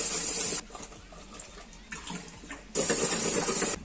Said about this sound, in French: vous devez laver la pomme complètement avec beaucoup d'eau